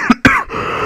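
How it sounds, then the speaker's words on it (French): Two quick, harsh coughs come close to the microphone, the second louder, followed by a faint hoarse trailing breath. "je savais que j'allais tousser"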